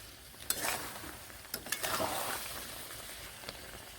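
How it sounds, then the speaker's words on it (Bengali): Spoon stirring a jujube pickle as it boils in jaggery, soft scraping strokes over a steady sizzling bubble, with a few sharper clinks near the start and middle. "একটু করে নেড়ে দেব বেশ ভালোভাবে আমি নেড়ে নিচ্ছি"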